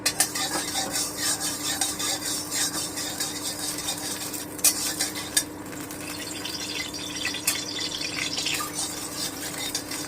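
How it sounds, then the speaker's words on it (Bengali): Potatoes fry in mustard oil in a wok, with a faint sizzle beneath repeated scraping and clinking of a stirring utensil against the metal, and no voices. "এবারে আমি এতে আলুগুলো ভেজে নিচ্ছি"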